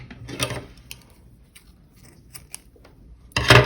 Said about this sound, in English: To make the invisible slip stitch join, you need to cut your yarn.